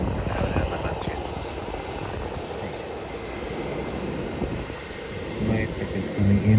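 A Jetstar Airbus A320 lands at Melbourne Airport, a broad, rumbling roar of engines that holds steady and swells slightly toward the end, heard from outdoors at some distance.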